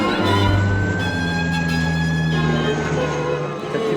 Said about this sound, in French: Peut-être qu'ils mettent la sirène, comme ça veut dire qu'ils vont larguer